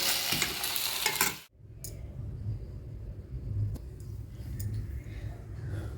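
Tomatoes sautéing in a pan, a loud hiss at first that drops away abruptly, followed by a quieter low sizzle with light clicks and scrapes, no talking.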